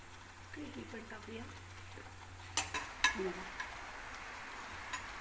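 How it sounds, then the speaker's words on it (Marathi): A small puri fries in hot oil, giving a soft, low-level sizzle with a few brief crackles and pops near the middle, while a voice talks quietly in the background. "तळूया एक ट्रायल घेऊ आधी छोट्या पुरीची"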